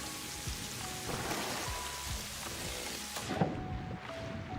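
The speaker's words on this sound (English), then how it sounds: "It's raining. Fitting." Steady rain hisses over everything in the video game Satisfactory, a dense even wash of falling drops with faint low rumbles beneath, continuous and fairly loud throughout.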